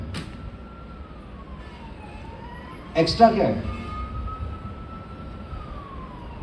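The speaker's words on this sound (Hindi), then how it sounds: "सायरन की आवाज सुनकर अंदर कुछ होता है ना?" A faint emergency siren wails steadily in the distance, its pitch rising and falling slowly, while a person speaks briefly over it.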